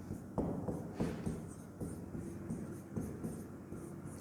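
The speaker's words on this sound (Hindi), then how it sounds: "किसी संख्या को सामने लिख रहे हैं" Chalk or marker writing on a classroom board, a run of scratchy strokes and taps with several sharper knocks, steady and fairly close, no voices.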